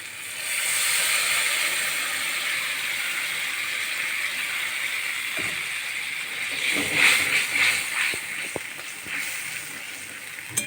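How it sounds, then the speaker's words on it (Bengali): Water from a rinsed spice jar poured into a cooking pan sounds as a steady hiss and sizzle. Brief splashing bursts and clatter come partway through. "এই মশলার জারটা ধুয়েই একটু জল দিয়ে দেবো।"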